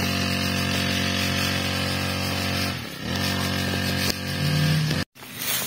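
A grass cutter runs in a field with a continuous, loud motor drone. It dips briefly and then cuts out abruptly near the end.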